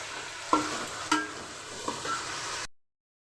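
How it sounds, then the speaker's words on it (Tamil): Tomato and onion sautéing in a pan for a fish curry, a steady soft sizzle with a few stirring clinks and scrapes, close and fairly quiet, no talking. "தக்காளி வதங்கணும்."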